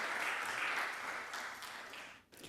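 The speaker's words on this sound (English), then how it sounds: "Please, another round of applause." An audience claps steadily in a continuous wash of applause that fades slightly before stopping briefly near the end.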